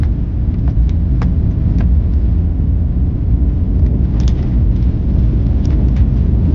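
A car rolls along a highway section of uneven paver blocks on the Mumbai–Goa route, giving a steady low road rumble with faint bumps and clatter throughout, no speech.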